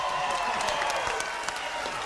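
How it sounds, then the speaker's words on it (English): Studio audience on the 1990 game show Family Double Dare gives a brief burst of dense, steady applause. Many hands clap together at close range for about two seconds. "Round of applause for them."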